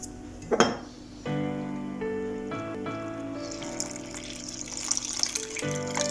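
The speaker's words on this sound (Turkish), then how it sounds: "Suyumuzu yavaş yavaş ilave edeceğiz." Water pours from a kitchen tap while lahmacun dough is being mixed in a bowl, with clinking dishes and utensils, the stream running steadily through the middle and then easing off.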